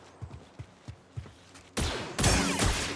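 Blaster fire being deflected in the Star Wars game Jedi Survivor: a few light thumps at first, then a sudden loud burst of dense, crackling shots and impacts that runs continuously to the end.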